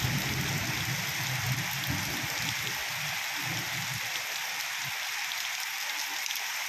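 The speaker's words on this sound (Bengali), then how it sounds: "বর্তমানে বৃষ্টি হচ্ছে ভাই" Steady morning rain in Berhampore falls in a dense, even hiss on surfaces, close and continuous, with a dull rumble of low noise underneath that fades toward the end.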